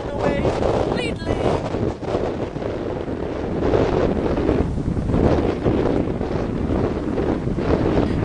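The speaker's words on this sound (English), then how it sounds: "the wind has started to pick up, which blows the cherry blossoms away" Strong wind blusters hard against the microphone outdoors among cherry blossom trees, making a continuous loud roar with rising gusts.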